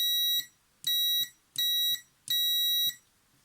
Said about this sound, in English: the multimeter beeps